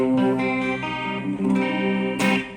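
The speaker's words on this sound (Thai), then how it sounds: "เช่นตอนนี้นะครับเสียงคลีนมีคอรัส" A clean electric guitar through a Boss ME-25 multi-effects unit with a shimmering chorus effect plays sustained chords and notes, loud and alone.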